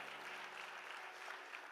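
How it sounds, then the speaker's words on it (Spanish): Steady applause from a church congregation during a worship service, a dense even patter of clapping that holds at the same level throughout with no voices over it. "denle el aplauso fuerte al Señor"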